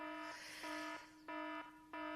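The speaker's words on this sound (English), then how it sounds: "Give me a buzzer or a horn," A buzzer or horn sound effect blares in three short, loud bursts with brief gaps between them, a steady tonal honk with no talking.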